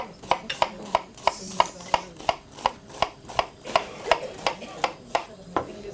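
A knife chops onions finely for risotto on a board in a live demonstration, about sixteen sharp, evenly spaced taps close by, with a faint murmur of room noise behind.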